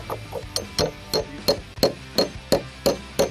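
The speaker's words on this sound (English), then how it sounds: "give it a few whacks, that'll sink into the wood" A hammer strikes a carriage bolt into wood while building a picnic table, about eleven evenly spaced sharp knocks in quick steady rhythm, close and loud with no voices.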